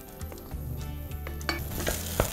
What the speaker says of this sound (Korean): 감자가 버터에 좀 버무려지면